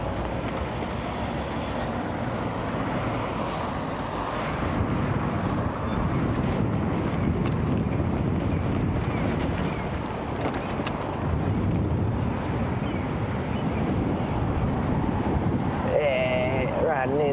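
Steady wind roar buffets the microphone while cycling along a town bike path in Nord-Troms, Norway, a continuous broadband rush that stays loud throughout.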